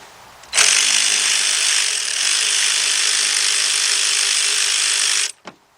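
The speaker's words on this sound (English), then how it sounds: "And then I'm going to be using the 13mm deep with my cordless impact." A cordless impact wrench with a 13mm deep socket runs in one sustained burst of about five seconds, tightening timing belt tensioner bolts on a Volkswagen Beetle engine, loud and close, ending with a short click.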